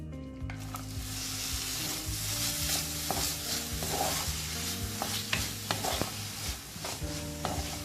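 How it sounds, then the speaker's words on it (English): Finely chopped onions fry in butter in a kadai, a steady close sizzle broken by repeated scrapes and clinks of a spoon stirring, with soft background music running underneath throughout. "Into the butter, I will add the finely chopped onions."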